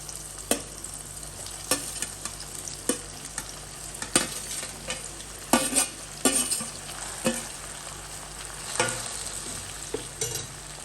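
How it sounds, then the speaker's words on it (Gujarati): Chopped potatoes and okra frying with softened tomato in a pan, a steady sizzle broken by repeated sharp scraping clacks of a spoon stirring against the metal, close and clear with no talking. "ત્યારબાદ આપણા જે સમારેલા બટેટા છે એને અને સમારેલા ભીંડા જે છે એને આપણે ઉમેરી દઈએ."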